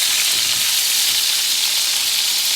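Seasoned food for a Jamaican dish sizzles as it browns in a hot skillet, a loud, even hiss of frying that holds steady throughout.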